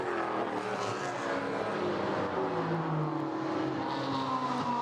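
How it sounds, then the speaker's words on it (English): Formula MX-5 race cars, including a blue and white NB generation Mazda Miata, race at Lime Rock Park. Their engines drone loudly and continuously, with rising and falling pitch as the cars pass and rev. "now has an opportunity to pick up a spot from the winning Formula MX-5 of Emil Tab"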